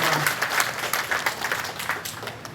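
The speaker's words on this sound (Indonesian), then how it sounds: "Tepuk tangan dulu untuk kita semua." Audience applause at a regional government ceremony in Kotawaringin Barat, Indonesia, where vegetable and fruit seedlings are handed to farmer groups; a steady, moderately loud patter of many hands clapping, briefly alone after the call to clap.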